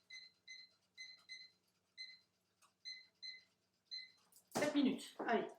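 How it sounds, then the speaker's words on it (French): A kitchen timer is set with a series of short electronic beeps in an irregular rhythm, close and clear, followed by a person speaking. "Allez, on se remet un petit coup de minuteur."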